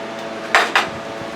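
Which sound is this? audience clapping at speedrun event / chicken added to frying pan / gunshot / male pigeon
chicken added to frying pan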